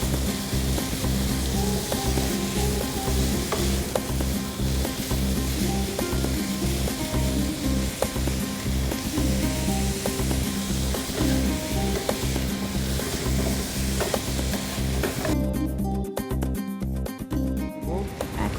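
Minced lamb sizzles and fries steadily in a hot pan, a dense continuous crackle with frequent stirring scrapes throughout, loud and close.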